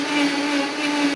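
Blender whirring steadily at high speed while blending creamy alfredo sauce, a loud constant motor hum that holds for about a second before cutting off.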